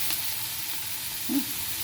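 Grated onion frying in oil with garlic and green chillies for a potato, pointed gourd and egg omelette curry, a soft, continuous sizzle close by with a brief stir partway through.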